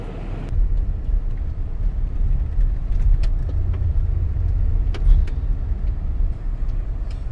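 A car rolls along a mountain dirt road with a steady low rumble and road noise, plus scattered light rattles and knocks from the bumpy surface and no speech.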